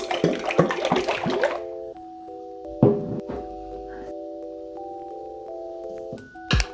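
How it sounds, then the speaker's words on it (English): A jar of spiced vanilla orange syrup rattles in quick rhythmic shakes, then the lid knocks and liquid trickles as it is strained into another container, with a steady tonal hum underneath. "I'm going to give this a nice shake, and then I'm gonna open it up and strain it into the next container."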